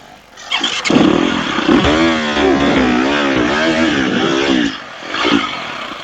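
A dirt bike, a KTM 300 XC-W or Beta 200RR two-stroke, rides across open range. The engine is loud and close with a steady wavering throttle drone, brief revs at the start and a short surge near the end.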